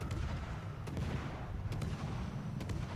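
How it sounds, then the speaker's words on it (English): Warship guns on the Friesland firing in a naval video game, a few muffled distant booms over a low rumbling background, faint and with no talk. "I'm only shooting one barrel at this time."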